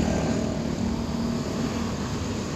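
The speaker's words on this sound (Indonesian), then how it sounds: "Ada 2 helikopter lewat tadi." Helicopter passing overhead near a deep excavation site on a toll road under construction, a steady broadband rotor and engine drone with a low throb that stays loud and continuous throughout.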